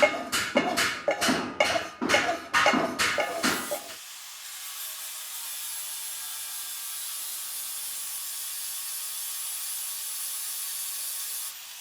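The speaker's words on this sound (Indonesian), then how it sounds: "kita amplas pakai amplas itu" A gamelan key being sanded by hand with sandpaper: about four seconds of rhythmic, raspy back-and-forth strokes, close and clear, followed by a quiet steady hiss.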